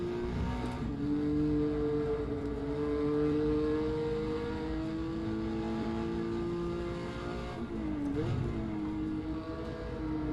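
A Porsche 911 RS race car engine drones steadily at high revs while lapping the Zolder circuit, loud and close from onboard, with a brief dip and pitch shift as gears change.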